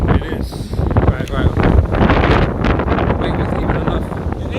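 Strong wind gusting outdoors at a campsite, a loud, steady rumbling roar buffeting the microphone, swelling and easing over several seconds while people talk underneath.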